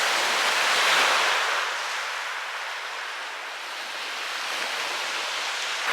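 Waves wash onto Brighton beach in England, a broad continuous roar of surf that swells and eases slightly, steady and fairly loud with no talking.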